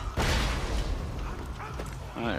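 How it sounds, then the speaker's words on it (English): A cannon blasts a gate in the Borderlands 2 video game: one loud, close boom with a broad burst of noise, then a rumbling tail. Voices are heard faintly near the end. "shoot the gate with the cannon now!"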